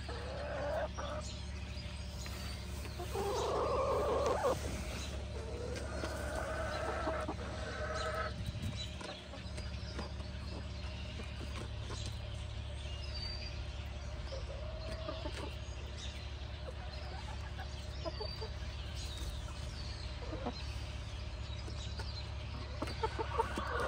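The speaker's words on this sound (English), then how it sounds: "Can you chickens explain to me why I find so many feathers from Amelia and some from the Reds?" Backyard chickens cluck softly and intermittently at close range, with a few louder bursts early on over a steady low background hum.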